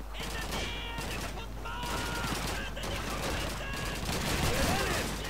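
Gunfire from an MP40 submachine gun in the PC game Call of Duty 2, a near-continuous run of rapid shots over busy in-game noise, with someone talking over the shooting.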